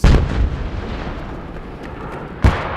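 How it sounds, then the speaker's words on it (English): Gunfire and shelling in the gorilla sector during the Congo war: a heavy boom opens, a rolling rumble follows, then a second sharp blast hits. Loud and reverberant, with no voices. "They are just shooting in the gorilla sector."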